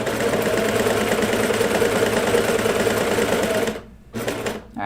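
A cover stitch sewing machine runs loud and close while stitching kids' pajama bottoms, a dense steady mechanical whir that breaks off near the end, restarts briefly and stops again, with no talk.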